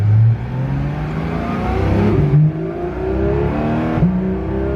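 A loud car engine with its exhaust removed revs up and down in several rising and falling pulls, raw and unmuffled, close by with a throaty drone between surges.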